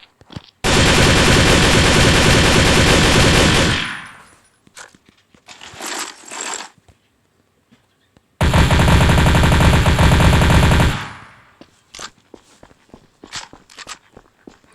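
Two long bursts of sustained automatic fire from Galil and M4 rifles in the video game Counter-Strike: Source, each lasting about three seconds, loud and dense, with short clicks and shuffling between them.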